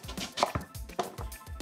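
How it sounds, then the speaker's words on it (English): Knife chopping butternut squash into cubes on a cutting board, a series of sharp, distinct knocks at an uneven pace, heard close with no talking. "Now stack a few slices on top of each other, cut straight down to give cubes."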